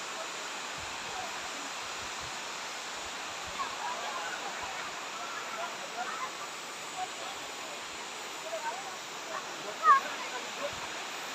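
The Can-umantad waterfall in Candijay, Bohol, gives off a steady, even roar of falling water throughout, heard from nearby with no other clear sounds over it.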